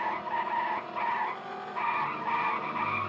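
Flat, unchanging car engine drone from the PlayStation port of the racing game San Francisco Rush, a steady looping tone that swells and dips slightly in level, with no spoken voice over it.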